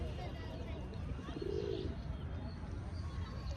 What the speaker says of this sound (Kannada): ನೋಡಿ ಪಾರಿವಾಳಗಳು.